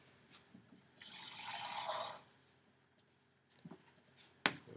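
Plain tap water poured into a container during a red cabbage indicator demo, a single smooth splashing pour of about a second, followed by a few faint drips and clinks.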